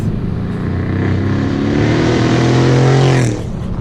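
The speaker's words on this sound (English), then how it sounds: "it has straight pipes and no mufflers. And I was like, that's an exhaust." A loud, raw straight-piped exhaust with no mufflers on a tuned 2012 Mercedes CLS63 AMG revs and holds a deep, rumbling drone, its pitch climbing steadily before cutting off abruptly near the end.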